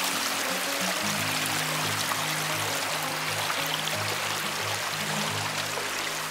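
Water rushes and gurgles steadily in a flowing woodland stream, a constant close hiss with a low rumbling undertone.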